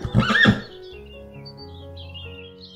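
A horse neighs in a short, bright whinny at the start of a children's phonics song, then fades into soft sustained musical tones.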